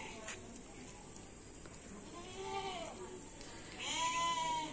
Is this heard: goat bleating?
yes